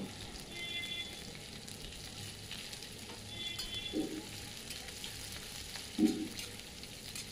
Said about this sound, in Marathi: चांगलं भाजून घ्यायचा कांदा आणि लसूण चांगला भाजून घ्यायचा